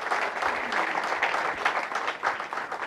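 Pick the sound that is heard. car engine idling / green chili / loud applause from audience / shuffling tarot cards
loud applause from audience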